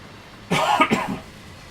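A single short cough burst with a couple of quick follow-up hacks, close and fairly loud, standing alone without speech.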